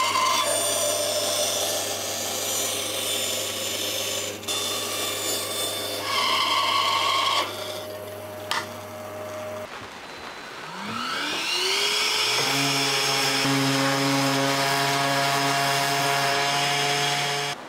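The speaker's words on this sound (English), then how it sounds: "I'm going to use the bandsaw to cut this open" Bandsaw with a thin blade cutting a small wooden box open, a steady rasping cut over a running motor hum, then the motor winding down and spinning back up with rising tonal whine.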